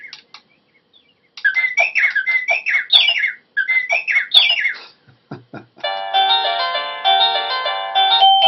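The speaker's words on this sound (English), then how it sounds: "And now I'm on bird chimes." An Anko portable wireless doorbell plays its bird chime tune: bursts of synthetic chirps and warbling trills, then a brief few clicks, followed by a sustained bright electronic melody, loud and close with no talking.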